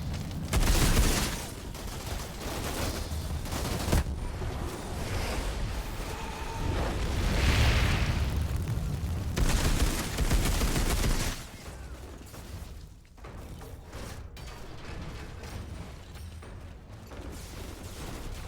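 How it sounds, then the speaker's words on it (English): Automatic shotgun firing in the Outriders video game, rapid continuous blasts loud and close, mixed with in-game explosions and effects, easing off into scattered shots and mechanical noises toward the end. "I'm not so sure I like this auto shotty"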